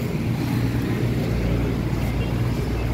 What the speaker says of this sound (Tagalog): Ayan, nakita nyo yung engine guys, tahimik.